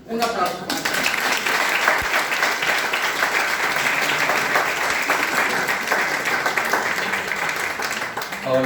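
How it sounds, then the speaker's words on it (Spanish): Sustained audience applause at a lecture on forgotten bandits, steady dense clapping filling the room for several seconds at close range, with a brief quieter start and no speech over it. "Un aplauso."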